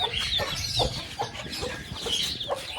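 A brood of seven young chicks, with clucking and soft chirping peeps repeating through the clip, moderately close, with no talking.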